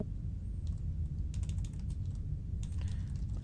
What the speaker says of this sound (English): I'm messing up my typing so much during this play